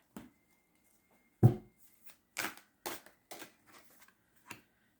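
Tarot cards are handled during a reading: a sharp snap near the start, then a run of soft, short card slaps and shuffling bursts spaced through the quiet, fairly faint and close.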